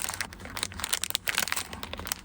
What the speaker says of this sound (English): Sorry for the crinkling noise.